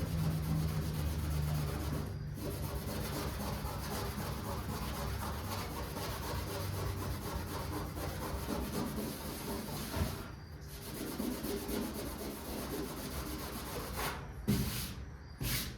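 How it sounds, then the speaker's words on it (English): Scuffing of painted and bare metal spots on the body of a 1978 Ford truck, a steady close rubbing and rasping with a few short pauses, no talk. "I want to scuff these spots and see if the bare metal or rusty spots come back through."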